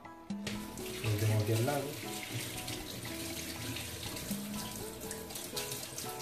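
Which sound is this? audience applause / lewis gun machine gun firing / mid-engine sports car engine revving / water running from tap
water running from tap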